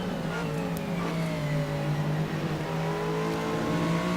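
Porsche 911 RSR race car engine in the Assetto Corsa racing game, at Donington Park, holding a loud, steady high-revving drone with rising and shifting harmonics as the car runs close behind another, alone without talk.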